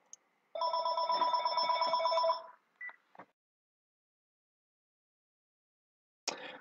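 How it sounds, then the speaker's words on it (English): A telephone rings with a steady electronic tone for about two seconds, then gives two short beeps and falls silent before a brief noise at the end; no one speaks. "Oh, hold on one second. I got a phone call."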